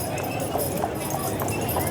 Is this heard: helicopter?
no